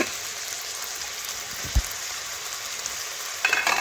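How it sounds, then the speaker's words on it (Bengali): Water poured into a frying spice mixture for chhyachra sizzles and hisses in a steady, fairly close crackle throughout, with a soft knock and a few brief stirring scrapes near the end. "এখন আমি বাটিটা ধুয়ে একটু জল দিলাম"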